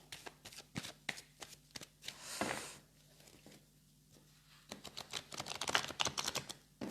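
Oracle cards being shuffled by hand during an evening full-moon card reading, a close, papery rippling riffle in repeated bursts with short pauses between, heard alone without speech.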